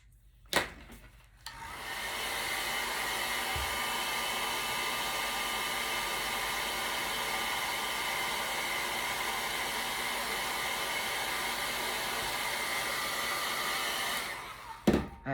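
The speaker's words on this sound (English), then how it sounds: "let me hit that with the dryer." A hair dryer blasts steadily for about thirteen seconds, drying paint on a three-foot snowman. It sits close and loud with a broad, even rush, and brief handling knocks come at the start and end.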